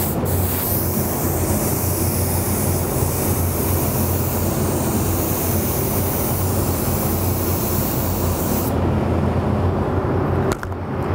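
An LPH 80 spray gun lays a single coat of Createx UVLS clear, a loud, steady hiss of airflow that runs unbroken for about ten seconds before cutting off abruptly.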